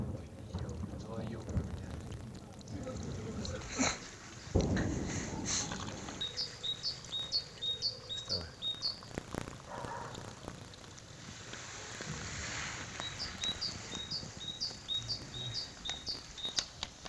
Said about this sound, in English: You hear a bird chirping away in the background.